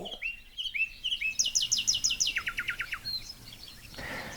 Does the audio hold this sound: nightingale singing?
yes